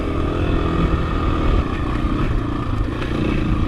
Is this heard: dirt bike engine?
yes